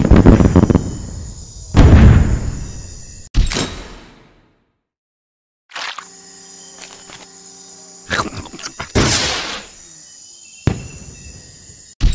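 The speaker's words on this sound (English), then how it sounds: "it kind of looks like the SAM turret's shooting all of its missiles" Missile launches from a SAM turret in a Henry Stickmin game, a series of loud whooshing blasts in two bursts separated by a brief silence, over a steady electronic game hum.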